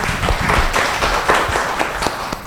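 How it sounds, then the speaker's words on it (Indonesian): Applause for Pak Sol at a diplomatic forum on soft power diplomacy: dense, steady clapping from an audience filling the whole stretch, moderately loud with no voices over it. "Tepuk tangan untuk Pak Sol."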